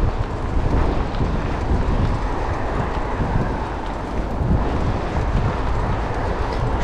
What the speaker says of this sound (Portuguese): agora o vento tá pesando um pouco